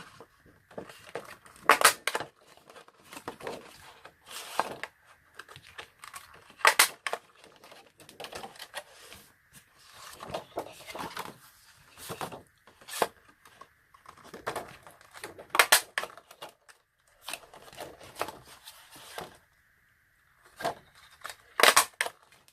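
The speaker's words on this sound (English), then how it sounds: "we're just going to go and cut out, punch out I should say, some roses" Paper roses being cut with a 2-inch scallop punch: a series of sharp, crisp clacks and crunches in irregular bursts, close and fairly loud, with quieter handling rustles between punches.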